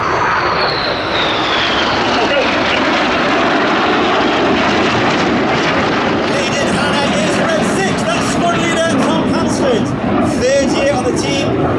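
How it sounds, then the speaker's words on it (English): Royal Air Force Red Arrows jets make a low pass over the airfield at an air festival, a loud continuous roar of engines swelling across the whole stretch, with a rising whine early on and crowd noise beneath. "They'll have a closing speed of over 900 miles per hour as they perform the Hannah Pass."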